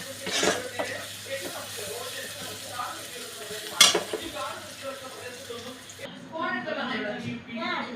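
Chicken curry masala fries in a pan while a spoon stirs it, giving a steady sizzle with scraping and clinks of utensil on metal, close and moderately loud beneath ongoing talk.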